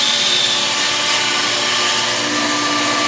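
Power saw cutting a wood piece for a 1934 Chris Craft 21-foot runabout boat, a loud, steady high whine and rasp running continuously up close with no talking.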